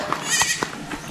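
Goats on a farm bleat in short, nasal cries, several overlapping calls in quick succession, close and fairly loud, with a stronger bleat at the very end.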